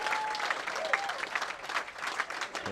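At a professional women's bowling tournament final, a crowd bursts into sustained applause and cheering after a shot, a dense, even clatter of clapping heard throughout with no talk over it.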